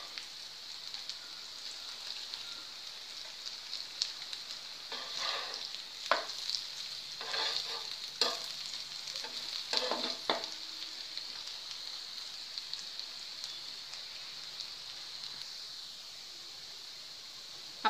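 Cabbage vadi pieces shallow fry in a pan of oil, giving a faint, steady crackling sizzle with a few louder bursts of spatter partway through and no talking.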